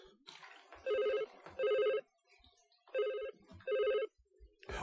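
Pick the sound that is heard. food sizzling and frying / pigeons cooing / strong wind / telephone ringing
telephone ringing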